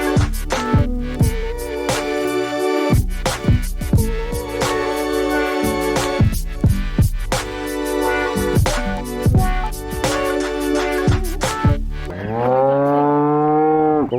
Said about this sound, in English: now we're hanging out with the cattle